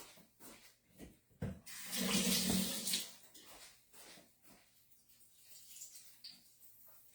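Kitchen tap runs briefly into a sink while cooking, a short splashing gush of about a second amid quiet room sounds.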